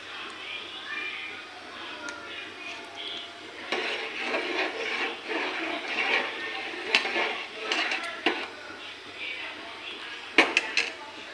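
Khichuri ingredients are mixed with turmeric in a bowl, producing uneven scraping, stirring and light clinking of a utensil against the dish, building in bursts with a few sharper knocks near the end.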